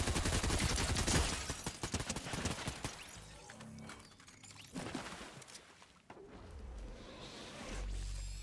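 Gunfire in the Fortnite Zero Build video game: dense bursts of rapid shots in the first seconds, then scattered cracks and booms trailing off, with occasional heavier low thuds.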